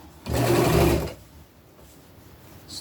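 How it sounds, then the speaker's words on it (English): A sewing machine stitches knit fabric on an upcycled princess dress in one short, fast whirring run of about a second, then goes quiet. "And sew it in place."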